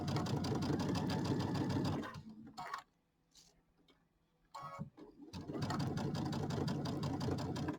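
A sewing machine sews a quarter-inch seam down a small opening on a quilted bench square, running loud and fast nearby, stopping for a couple of seconds of quiet handling, then resuming steadily.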